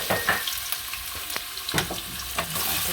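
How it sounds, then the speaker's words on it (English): Potatoes go into a hot pot on medium heat for Jamaican curry shrimp, giving a close crackling sizzle with light stirring scrapes and a few sharper taps, steady frying noise throughout and no talking. "Okay, so I have my pot on medium and I'm going to add my potatoes."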